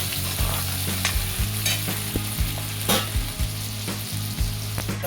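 Onion sizzles in hot oil in a kadhai with cumin seeds for a parwal sabji, a constant crackling fry broken by rhythmic scraping stirs of a spatula against the metal pan, close and clear with no voices.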